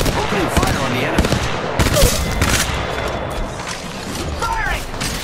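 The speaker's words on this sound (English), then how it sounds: "Opening fire on the enemy." Dense exchange of gunfire in the battle royale game Apex Legends Mobile, bursts of automatic shots and impacts cracking irregularly over busy game noise, with voices speaking intermittently.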